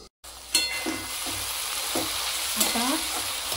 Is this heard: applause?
no